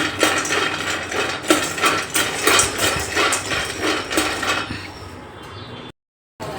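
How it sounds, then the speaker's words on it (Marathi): Peanuts dry-roasting in a pan give off steady rattling and clattering as they are stirred and tossed, loud and close, with no talk over it. "सर्वात प्रथम आपण शेंगदाणे घेऊन एका पॅनमध्ये शेंगदाणे घेऊ, भाजून घेऊयात।"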